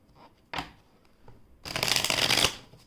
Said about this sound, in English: I'll give it a little bit more shuffle because I think I was holding it.